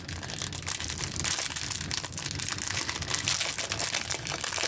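Plastic bag packaging from a Temu diamond painting kit crinkles and rustles continuously up close as it is pulled open, a busy, crackling sound with no talking.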